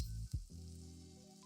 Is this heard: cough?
no